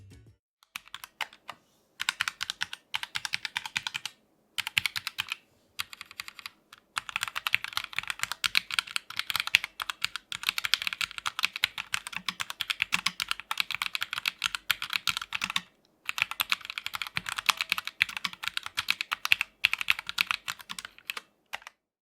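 Someone types rapidly on a mechanical keyboard with fast, shallow FPS-style switches and thin ABS keycaps, a steady clatter of keystrokes in bursts with brief pauses between them.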